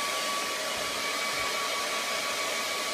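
A hair dryer blows steadily to dry paint, a close, loud, continuous whooshing roar with a faint whine, unbroken for the whole three seconds.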